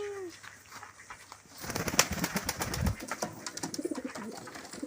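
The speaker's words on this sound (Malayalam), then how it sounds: "നിന്റെ പ്രാവ് താഴെ ഇറങ്ങി നിന്നെ കൊത്തി കൊത്തി താഴെ വന്നിരിക്കുന്നു" Pigeons coo softly nearby, with low muffled calls mixed into rustling and scuffling sounds outdoors around a home and faint voices in the background.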